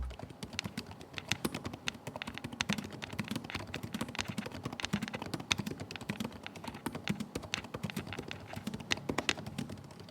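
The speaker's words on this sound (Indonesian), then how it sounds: "contoh suara feedback dari keyboard Acer Predator Triton 500 SE" Continuous rapid clicking of Acer Predator Triton 500 SE laptop keys, a busy stream of light taps recorded up close, steady throughout with no voices.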